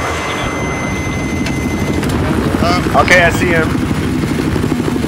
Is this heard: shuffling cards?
no